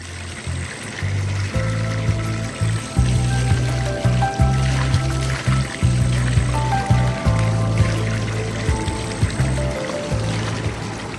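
Water runs steadily from a pipe with a continuous gushing, splashing flow, close and fairly loud throughout.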